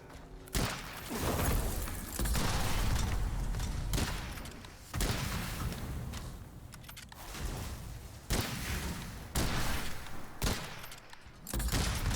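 Gunfire from a weapon in the Witchfire game, rapid broadband volleys in repeated bursts separated by short pauses, loud and close, with little talk over it.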